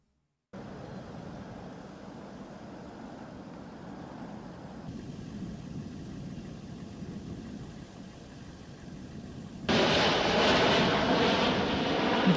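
Steady airplane engine drone that holds for several seconds, then jumps suddenly louder and rougher, with a continuous roar and no talking.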